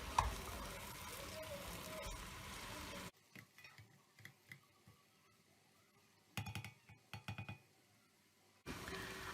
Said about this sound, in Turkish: ıspanaklarımızı salçayla, soğanla iyice harmanlayarak da karıştıralım.